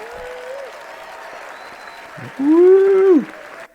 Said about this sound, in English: Let's hear some applause for that